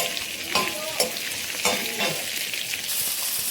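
Okra pieces fry in hot oil in a pan, a steady close sizzle with occasional stirring scrapes and crackles throughout, no talking.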